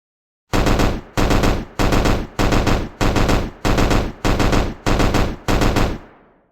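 Rifle gunfire in a video game, nine loud, evenly spaced bursts of automatic fire, each about half a second long, ending with a fading reverberant tail and no talk.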